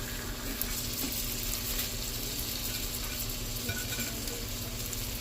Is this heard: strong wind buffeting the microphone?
no